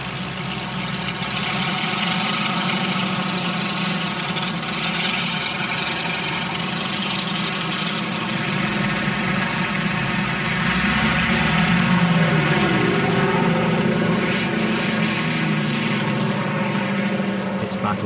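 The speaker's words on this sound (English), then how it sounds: "Wave after wave of Corsair and Sky Raider fighters attack the north." Corsair and Skyraider propeller fighter planes, a loud, steady droning engine roar with layered harmonic hum that holds for the whole stretch and swells slightly past the middle, with no talking heard.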